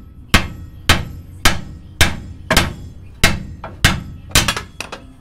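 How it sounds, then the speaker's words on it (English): A hammer strikes metal repeatedly in a steady rhythm, tapping a sleeve into place on a Chevy truck's front-end steering, about nine sharp, ringing taps, with a quick cluster of lighter hits at the end. "Just take a hammer in."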